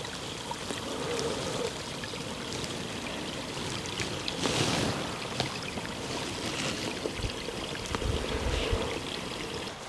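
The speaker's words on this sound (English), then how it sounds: "It seems to be coming straight out of a spring." Spring water flows out of the ground into a small stream on Dartmoor, a close, continuous babble and trickle with occasional splashier gurgles, steady in level and free of talk.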